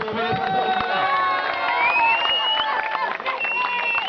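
An audience at a football shootout presentation ceremony, with continuous crowd noise, cheering and scattered clapping that stay loud for the whole span while voices shout and talk over it.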